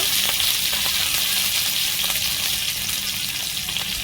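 Chopped green chili sizzles in a little hot oil with a constant, close, crackling hiss and faint stirring, no talking.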